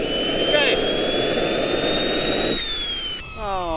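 A small jet engine on a tiny jet-powered hovercraft tries to start, a loud rushing roar with high whining tones that cuts off abruptly partway through, leaving a fading whine and rising pitch sweeps.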